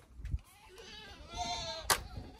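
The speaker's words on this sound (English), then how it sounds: "You're feeding the goats." Dairy goats bleat while being fed on a farm, with a few short calls close by and a voice briefly in the background.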